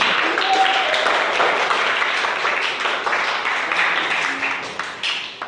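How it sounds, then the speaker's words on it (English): A room full of people claps steadily for several seconds, a dense, even wash of applause that tapers slightly near the end. "Let's have a clap for you people."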